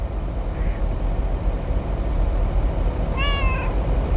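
Mortimer the cat gives a single clear meow in a video game, one drawn-out, wavering cry late in the moment over a low steady background hum.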